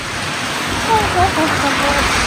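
Heavy hail and rain pouring down outdoors, a loud dense steady roar with faint voices talking underneath.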